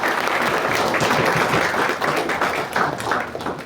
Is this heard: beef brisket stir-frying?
no